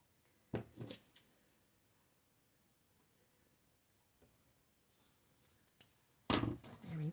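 Scissors snip ribbon for a big patriotic mailbox bow, a few crisp cuts near the start and a louder burst of snipping at the end, close and quiet between.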